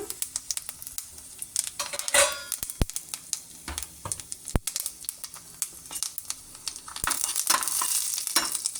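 Cashews and fennel seeds fry in a pan with a crackling sizzle, broken by sharp clicks and clatters of a spoon stirring against the metal, growing busier toward the end.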